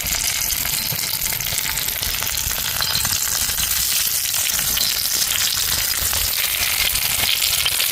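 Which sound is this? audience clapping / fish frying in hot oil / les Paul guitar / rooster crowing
fish frying in hot oil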